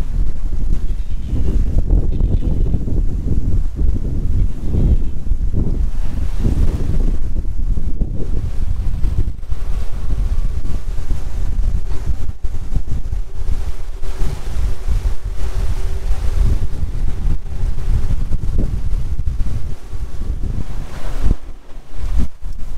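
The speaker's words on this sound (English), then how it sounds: "Wind's finally got up." Strong wind at the beach at Barwon Heads in winter, a continuous loud roar buffeting the microphone and blending with crashing surf for the whole stretch.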